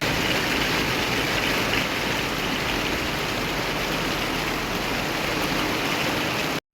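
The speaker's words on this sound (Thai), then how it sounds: "ฝนตกค่ะทุกคน ตกแรงในระดับหนึ่งเลยละ่ะ" Heavy rain pours down near a temple in Nan, Thailand, a dense, steady, loud hiss that fills the whole stretch without pause and cuts off abruptly at the end, with no talking.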